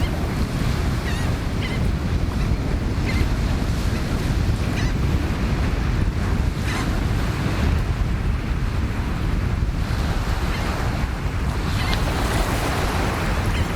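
Waves breaking steadily on the beach at high tide at Fisherrow, Musselburgh, Scotland, a continuous loud wash of surf mixed with wind buffeting the microphone, no voices.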